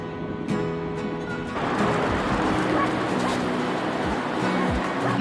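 Dogs bark and yip repeatedly on a windy Cornwall coastal beach, several loud close barks over steady wind and surf noise, with some brief whimpering.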